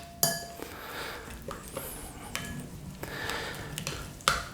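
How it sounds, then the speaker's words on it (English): A spoon clinks and scrapes against a bowl while stirring a Moroccan spiced kebab marinade, giving a few sharp clinks between softer scraping, close up and fairly quiet. "Now let's just give that a quick stir, get it all mixed up"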